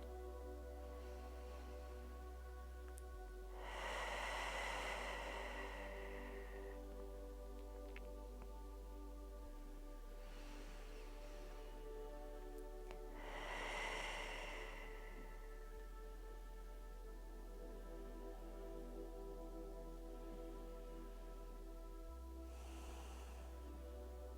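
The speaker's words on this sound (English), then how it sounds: "Taking deep inhales and long exhales, releasing any of that tension that you might be feeling." Slow, deep breathing during a gentle bed yoga session for cramps, two long airy inhale-exhale swells spaced apart, soft and close against a faint steady music bed.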